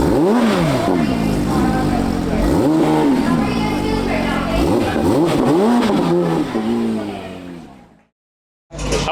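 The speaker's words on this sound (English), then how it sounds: "the Brewster Green GT3 RS from Manthey Racing leaves the stage" A Brewster Green Porsche GT3 RS from Manthey Racing revs and drives off at the Icons of Porsche 2024 event, with loud rising engine sweeps that fade as it pulls away, and crowd voices underneath.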